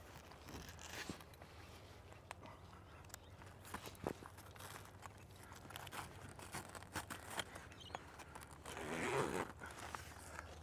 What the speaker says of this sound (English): feed the zipper in up here, and we're going to zip the Annex roof all the way over